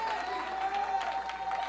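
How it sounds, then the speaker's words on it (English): Church congregation clapping hands together, a close, continuous burst of applause from many people that holds at a steady level. "Let's clap our hands one more time."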